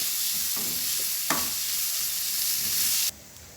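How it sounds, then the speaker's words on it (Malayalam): An onion and spice mixture with pepper powder sautés in a pan for a mutton curry, giving a steady close sizzle with a few stirring scrapes, then dropping abruptly near the end. "ഇതെല്ലാം കൂടി ചേർത്ത് നന്നായിട്ടൊന്ന് വഴറ്റിയെടുക്കാം"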